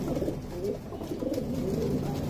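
Purebred Madrasi pigeon cooing softly, a low throaty burbling coo repeated continuously, close by.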